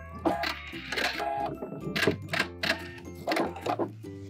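A sewing machine back-stitches the end of an apron pocket in short, close bursts of rapid mechanical whirring separated by brief pauses.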